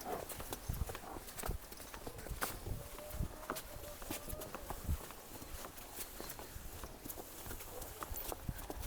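A heavy, freshly calved dairy buffalo's hooves clop slowly and irregularly on hard ground close by in Gharyala village, Punjab, faint steps alongside scattered knocks, with people talking nearby.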